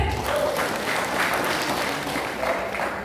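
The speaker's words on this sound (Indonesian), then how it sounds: "Aplaus untuk PTBS." An audience applauds steadily throughout, a dense wash of many hands clapping at a live event.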